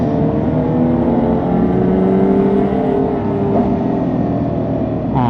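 Porsche 911 GT3 RS revving on a freeway just behind a group of motorcycles, heard as a loud, continuous engine roar with rising and shifting tones. Wind noise sits close around it.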